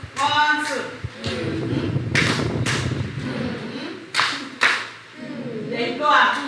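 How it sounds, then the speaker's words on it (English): A group of teachers at a training session does a rhythmic love clap, a few sharp, spaced claps cutting through as someone talks over them. "Oh, please let me give her a love clap."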